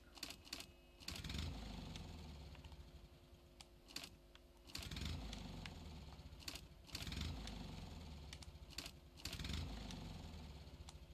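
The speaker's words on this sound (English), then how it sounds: "I heard it start. It wanted to start." A Lada car engine in Jalopy cranks repeatedly without catching, with several rhythmic starter bursts separated by short pauses, faint and distant-sounding.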